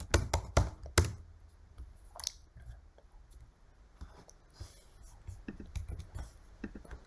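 Fingers typing a ChatGPT prompt on a computer keyboard, quick irregular clicks in bursts with short pauses, close and fairly quiet.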